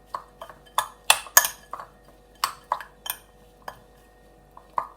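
A spoon scrapes and clinks against a bowl while mixing ingredients for a mackerel fish fry, giving a series of irregular metallic taps and chinks, close and clear with quiet gaps between.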